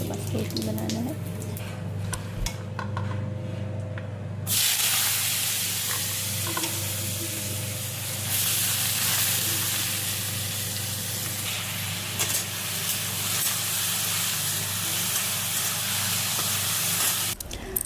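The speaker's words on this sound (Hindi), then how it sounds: "पहले भुंजिया भूंज लेंगे, उसके बाद चावल फ्राई करेंगे" Bhunjiya frying in a kadai, a steady loud sizzle and hiss that jumps sharply in intensity partway through and continues unbroken to the end.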